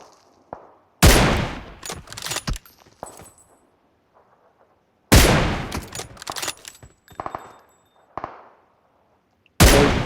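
An M24 sniper rifle fires in PUBG, three loud sharp shots spaced a few seconds apart, each followed by a rolling echo and quieter clicks of bolt cycling between them.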